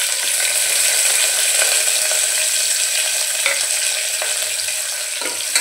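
Finely chopped onion and curry leaves sauté with cumin in hot oil for a Malvani-style chawli, potato and brinjal bhaji, a loud, continuous close-up sizzle broken by occasional stirring clicks.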